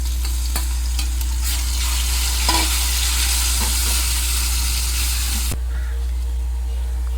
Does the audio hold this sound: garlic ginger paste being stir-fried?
yes